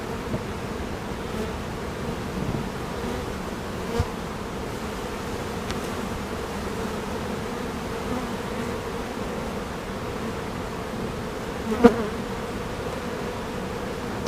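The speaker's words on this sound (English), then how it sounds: "There's quite a few bees on the side of the hive." Honeybees buzzing steadily around an open beehive during a hive inspection, a continuous insect hum filling the whole stretch with a few brief louder bumps.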